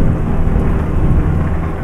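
Rain and rumbling thunder in a driving video game on a mountain road in the early morning, a loud, dense and steady roar with no talking.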